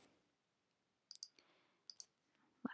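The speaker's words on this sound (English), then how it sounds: "Lots of clicking." Mouse clicks sound while selecting boundaries in COMSOL Multiphysics software: a few faint, sharp clicks spaced irregularly in near silence, some coming as quick double clicks.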